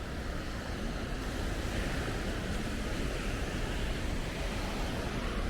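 Ocean waves at Bocagrande beach in Cartagena wash in a continuous broadband roar, with wind rumble across the microphone and no speech.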